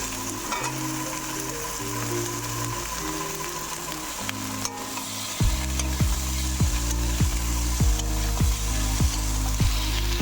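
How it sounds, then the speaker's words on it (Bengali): A vegetarian curry of bottle gourd, potato and chickpeas cooks in a pan with a steady, close sizzle and frying hiss that grows louder halfway through, while a spoon stirs it now and then. "এখানে আমি লাউ আলু আর ছোলা দিয়ে একটা তরকারি করে নিচ্ছিলাম নিরামিষ"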